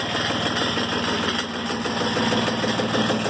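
Small Kubota engine idling on top of a Timberking 1400 sawmill, a steady close rumble with a fast even pulse and a light rattle throughout, no voices.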